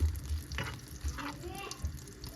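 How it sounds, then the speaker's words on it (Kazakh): Butter melting in a frying pan gives a soft, steady sizzle close by, with a few faint stirring scrapes and low thumps. "Біздің майымыз еріп жатыр мына жерде."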